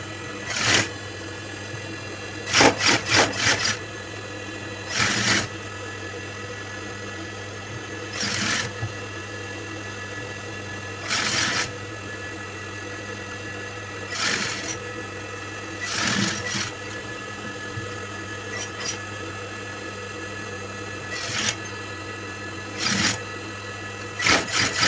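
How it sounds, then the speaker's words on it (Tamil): Sewing machine stitching piping on a chudithar neckline, running in repeated short loud bursts separated by brief pauses, close and alone with no talk. "ஃப்ரண்ட்டோட பைப்பிங் எவ்வளோ நீட்டாக வந்திருக்குங்க"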